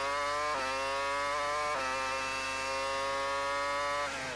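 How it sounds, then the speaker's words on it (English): A 2002 Formula 1 car driven by Raikkonen at the Canadian Grand Prix screams at high revs, a loud, continuous onboard engine howl with sharp pitch drops at gear changes. "You can hear how hard the engine works around this circuit."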